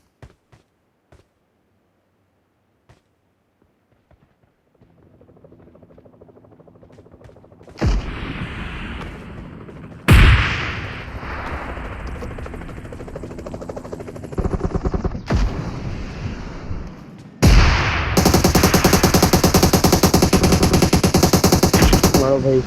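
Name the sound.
gunfire in the video game PUBG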